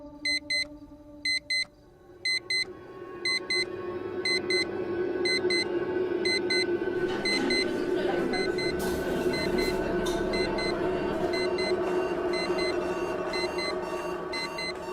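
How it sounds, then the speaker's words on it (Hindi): An alarm beeps in repeated short bursts, first nearly alone and then continuing unbroken under a rising engine-like drone and rumble, never stopping. "ये अलार्म बंद ही नहीं हो रहा है"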